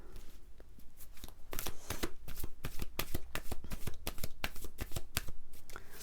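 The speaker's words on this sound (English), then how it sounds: "let's take you an oracle card, Pisces." Oracle cards are shuffled close up in quick papery riffles and flicks, the rhythm building and repeating, moderately loud with no voice over it.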